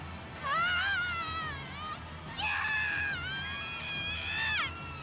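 A voice screams in two long, loud, wavering bursts over a low rumbling background, as a nurse character in the visual novel game Chaos;Head Noah is wounded in the face.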